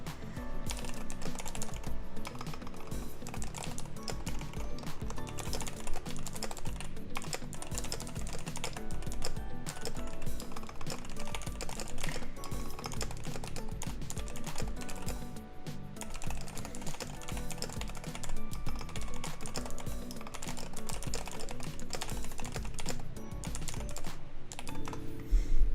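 Rapid, continuous typing on a clicky computer keyboard, with dense bursts of sharp keystrokes heard close up across a long stretch, with no talking.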